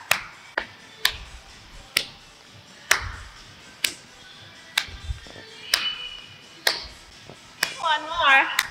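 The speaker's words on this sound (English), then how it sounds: "now we're gonna take a step and clap" Hands clapping in time during a cardio workout class, a steady sharp clap roughly once per second, close and crisp, with a short vocal sound near the end.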